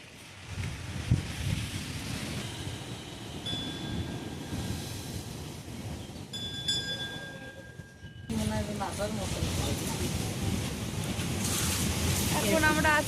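Sea waves on the beach at Digha, a steady rushing surf mixed with wind buffeting the microphone, growing louder and fuller in the second half as a wave washes in.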